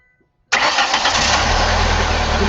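A car engine cranks and catches abruptly, then settles into a loud, steady idle close by, with no one speaking, while a noid light is plugged into the fuel injection system.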